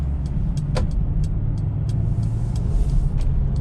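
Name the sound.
2021 Mercedes-Benz GLB 250 car driving onto highway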